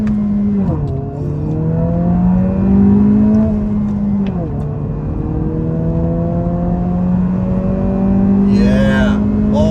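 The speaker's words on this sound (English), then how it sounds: "1st gear on the gas." A 2023 Honda Civic Si accelerates hard in first gear. Its close, loud engine note climbs in pitch in repeated rising sweeps, dropping briefly between them, with a faint voice in the background.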